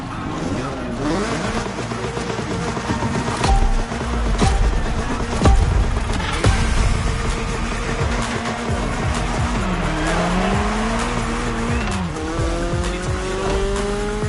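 A BMW M3 in The Crew Motorfest races loudly, its engine revving and shifting through gears with squealing, skidding tires and sharp impacts, while someone talks over it.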